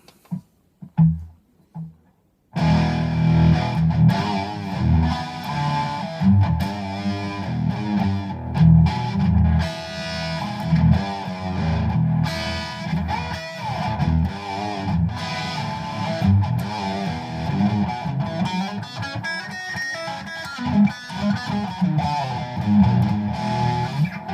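A heavily distorted electric guitar, a Cort Starlite, plays loud, sustained chords and riffs, starting after a couple of brief muted hits and continuing without pause.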